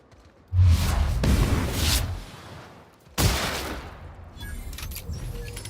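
Pistol gunshots in the video game The Outer Worlds: two sharp, loud reports about two and a half seconds apart, each followed by a long decaying tail of reverberant noise.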